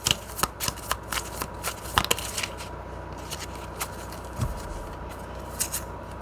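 Tarot cards being shuffled close up, a fast run of crisp riffling snaps at first that settles into softer sliding and shuffling with occasional light taps.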